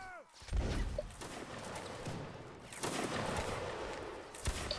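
Musket volleys crack out in Mount and Blade Warband Napoleonic Wars, with several sharp bursts of gunfire over a noisy battlefield din and occasional shouting.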